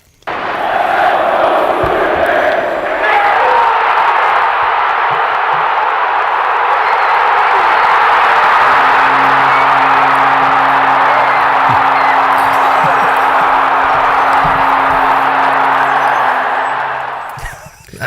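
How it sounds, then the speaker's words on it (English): A stadium baseball crowd roars for Springer's home run, a loud, sustained wall of cheering and whooping that swells and holds for most of the stretch before fading, with a low steady hum layered underneath. "So can we hear the crowd pop from Springer's home run, Jackson?"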